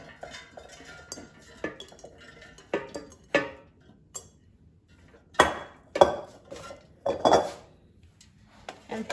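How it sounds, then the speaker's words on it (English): Orange cauliflower goes into an air fryer basket: a series of clattering knocks and metallic clinks spaced irregularly, several louder bumps among lighter taps. "now let's take out the air fryer basket and add orange cauliflower to the air fryer"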